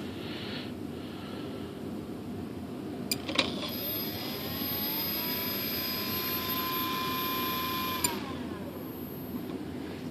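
Over steady background noise, the motor of an ASH26 2.6m composite RC sailplane whirs up into a thin, tonal whine. It holds for several seconds, then cuts off cleanly with a small click.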